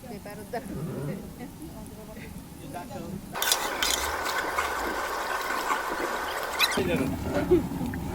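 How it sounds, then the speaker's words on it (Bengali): Beef biryani rice with raisins, dried plums and polao rice is stirred in a large pot over high heat, giving a rough churning scrape with a watery sizzle that loudens midway, close by, while a voice talks early and late. "সুন্দরভাবে নেড়ে মিশিয়ে নিতে হবে"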